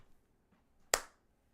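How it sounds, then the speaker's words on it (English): A single sharp hand clap, crisp and close, rings out alone against near silence with a brief decay. "This is the sound of one or more people clapping"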